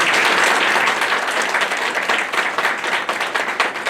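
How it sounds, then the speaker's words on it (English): A crowd at a launch event in a women's college hall in Varanasi claps loudly, producing a dense, sustained roar of applause that holds steady for several seconds. "all we want from you is to clap for the good people"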